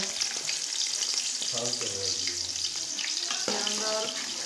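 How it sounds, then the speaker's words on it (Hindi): Onions sizzling in hot ghee, a steady loud crackle with faint stirring and clinking, no voices. "घी हमारा गर्म हो चुका है तो अभी हम उसके अंदर प्याज ऐड करेंगे"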